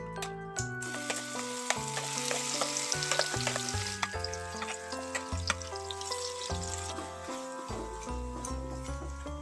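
Amla paste frying in ghee as it is stirred, a steady broadband sizzle with scraping strokes, while a background melody of sustained tones plays throughout.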